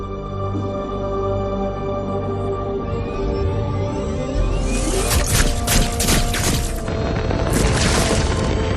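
Weapons fire and heavy explosions from MechWarrior 5: Clans rip through ships with a low rumbling roar, then dense crackling blasts and booms swelling loudly and repeating in bursts.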